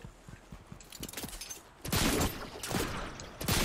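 Bursts of gunfire in the Fortnite video game, a few sharp shots early, then louder rapid volleys in the second half, close and loud, with no talking.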